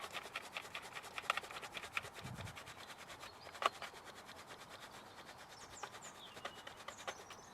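A dry watercolour brush scuffed against paper while painting outdoors at a water park, giving faint, soft rasping strokes in a quiet setting.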